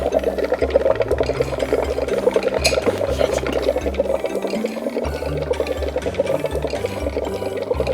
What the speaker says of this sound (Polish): Potem do ciepłej wody wrzucamy suchy lód.